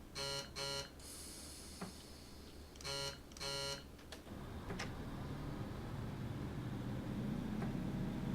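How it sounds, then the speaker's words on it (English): A class 153 train's brake buzzer in Train Simulator sounds in several short repeated electronic bursts, followed by rising engine and rolling noise as the unit accelerates. "Getting ready with the brake buzzer."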